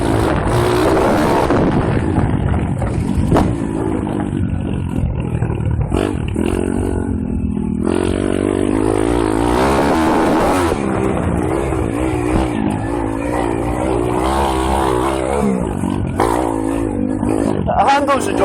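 A Kawasaki KX140 pit bike engine revs and bogs while riding over bumpy ground, a loud, close, rasping roar rising and falling throughout, with someone talking over it.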